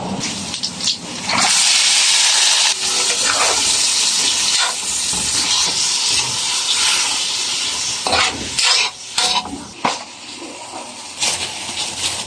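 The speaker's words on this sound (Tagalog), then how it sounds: "Pakulo na rin ako ng tubig." A pot on a home stove hisses and sizzles steadily, a loud broadband rush with stirring and clattering of utensils breaking through now and then, near and continuous.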